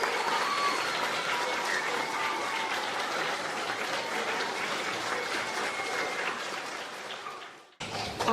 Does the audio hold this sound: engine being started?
no